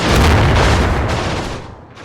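Gunfire from a light machine gun team in the Combat Mission wargame, heard as a loud dense boom-heavy burst that stays strong for over a second and then fades off.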